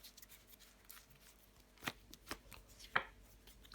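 Tarot cards laid down on a table during a reading: a few soft, brief slaps and rustles spaced apart against a quiet room.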